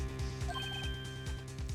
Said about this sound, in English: I heard a phone ring just now, one of those newfangled ringtones.